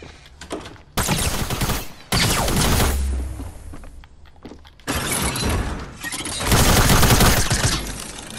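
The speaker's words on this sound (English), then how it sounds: "Shoot him with the shotgun." Fortnite gunfire comes in several loud, sharp bursts of shots separated by short quieter gaps, with shattering, breaking debris mixed in. There is almost no talk.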